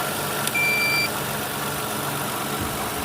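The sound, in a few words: 2008 Toyota Sienna minivan engine idling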